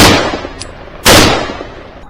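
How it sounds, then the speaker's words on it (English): Gunshots during a wild boar hunt near a wheat field: one sharp, loud crack with a long echoing decay, preceded by a fading earlier blast. "Gunshots cracked, ending the menace quickly."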